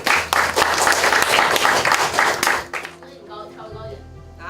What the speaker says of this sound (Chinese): 我觉得给大家给自己鼓掌好不好？